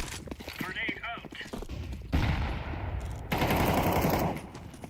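Rapid automatic gunfire in Counter-Strike 2, two sustained bursts of loud rattling shots after a stretch of mixed game noise, with players talking over the action.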